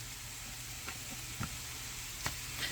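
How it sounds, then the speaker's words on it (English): Meatballs searing in a hot pan give a steady sizzle throughout, with a few soft knocks and taps of a utensil against the pan and no voices. "we're going to sear that on all sides"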